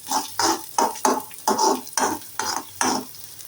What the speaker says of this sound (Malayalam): നമ്മൾ വീണ്ടും നമ്മൾ സ്പൂൺ കൊണ്ട് നേരത്തെ പോലെ നന്നായിട്ട് ഇളക്കുക